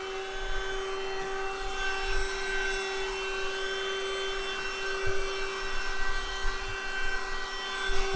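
A Yyton portable handheld car vacuum cleaner runs steadily at its first speed setting, a constant motor whine with a strong tonal hum and airflow rush, loud and close, with occasional bumps of the brush nozzle.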